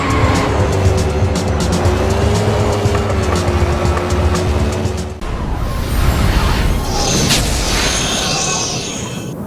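Race cars in the Race of Champions video game, loud engines droning and rising at close range, then giving way to squealing tires and skidding with whooshing passes in the second half.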